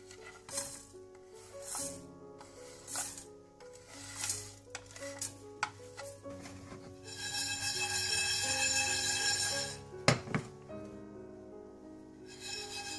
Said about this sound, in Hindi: सबसे पहले मैं इन खुश्क साबुत मसालों को ड्राई रोस्ट करूंगी, यानी खुश्क तवे पर हल्का सा भून लूंगी।